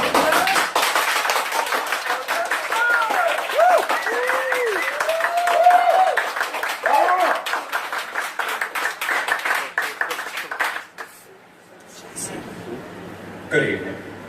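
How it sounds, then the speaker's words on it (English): Applause at a stand-up comedy gig, a dense crowd clapping with whoops and a voice rising over it, fading out after about eleven seconds into near quiet with a faint thump. "Start the applause"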